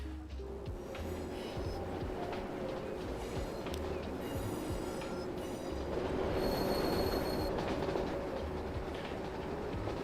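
A train rolls through the Transport Fever 2 rail simulation game, a continuous rumble of wheels with high squeals and occasional clicks, steady and fairly loud throughout.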